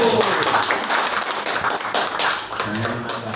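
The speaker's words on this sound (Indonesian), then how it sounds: "Tepuk tangannya dulu." An audience at a school training session claps in a dense, steady patter, close and loud throughout, with voices mixed in beneath the clapping.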